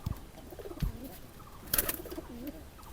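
Soft, low coos from a male pigeon repeat a few times in a quiet setting, with one louder rustle or flutter partway through.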